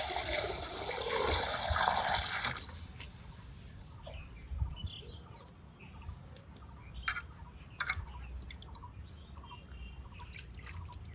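Water splashes and pours over live magur catfish in a container, a loud gushing burst for the first few seconds, then quieter dripping and small wet splashes from the moving fish.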